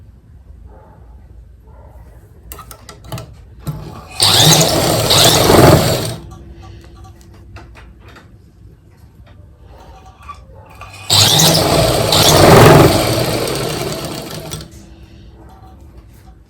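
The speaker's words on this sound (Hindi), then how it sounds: "दोनों पीसों में हम ऐसे के ऐसे इसको सिलाई से बंद कर लेंगे।" A sewing machine stitches two fabric pieces together in two loud bursts of rapid mechanical whirring, each lasting about two to three seconds, with quieter handling noises between.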